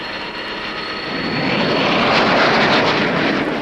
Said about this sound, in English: Within 100 feet, the Banshee is airborne.